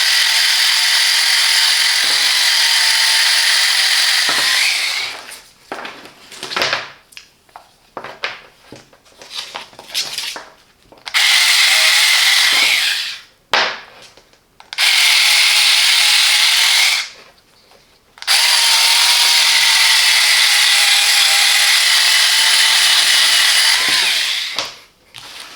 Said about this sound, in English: The Parkside Cordless Multicutter is a handy, portable tool that provides precision and power in a variety of cutting applications.